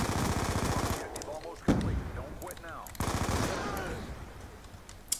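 Video game gunfire, rapid machine-gun bursts with many bullets, loud and close, broken by short pauses and single sharp shots.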